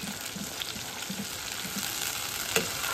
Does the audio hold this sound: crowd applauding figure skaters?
no